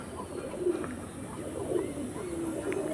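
Chennai blood pigeons coo softly in repeated low rolling phrases, a steady murmur from nearby birds over a faint background hum, with no talking.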